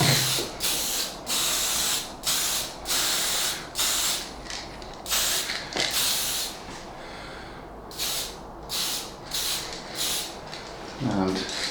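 An aerosol spray can lays a light rust-colour coat on an O gauge model layout's hard standing, giving about a dozen short, evenly spaced hissing bursts up close.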